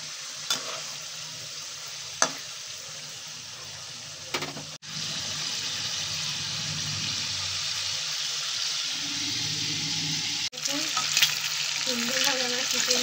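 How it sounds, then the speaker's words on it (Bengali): Pieces of chicken fry in a pan with a continuous loud sizzle, while utensils scrape and knock now and then during stirring. "সুন্দরভাবে আমার চিকেনটা ভাজা হচ্ছে।"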